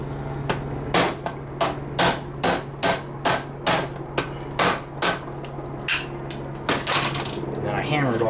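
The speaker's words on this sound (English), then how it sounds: "And then I hammer it off like this just so there's a little tab right there" A hammer strikes metal in a steady rhythm of about a dozen sharp, ringing blows, knocking off a door hinge pin during rust repair on a 1967 to 1972 car, close and loud with brief pauses between hits.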